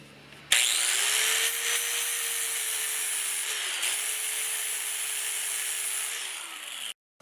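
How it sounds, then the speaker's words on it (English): A flap wheel grinds steel on a Yamaha RZ350 motorcycle frame being built into a TZR250 hybrid, a steady high abrasive whine running about six seconds after spinning up, with a slight dip midway and a close, loud tone. "And back to the flap wheel."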